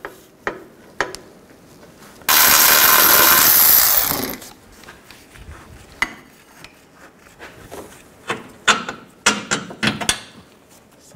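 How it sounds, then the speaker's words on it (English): Ratchet with a 19 mm socket working a front lower control arm bolt on a 2004-08 Nissan Maxima: a burst of loud power-tool whirring lasting about two seconds, then scattered metallic clicks and clanks, some sharp and close. "Now take this bolt out, use a 19 millimeter socket."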